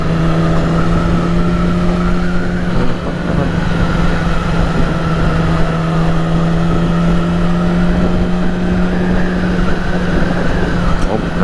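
A Yamaha R6 motorcycle rides alongside a 2001 Aprilia 1000, engines holding a steady, loud droning hum with slight pitch shifts over about eleven seconds and constant wind rush.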